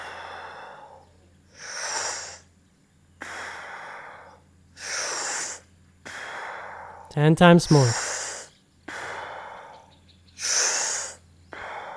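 Deep breaths are drawn in and let out during a guided Wim Hof breathwork session, heard as slow, loud, rhythmic inhales and exhales of a few seconds each. A voice gives brief instructions partway through.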